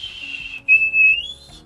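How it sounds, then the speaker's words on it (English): A person whistles a short sequence of notes, a lower tone first, then a clear brief middle pitch rising to a higher sustained note, alone and fairly close. "If we whistle a low note, our tongue stays flat. A middle note, it kind of lifts slightly, but then a high note,"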